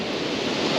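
Ocean surf washing onto a shingle beach, a steady broadband rush with no distinct breaks across a brief stretch, with some wind noise mixed in.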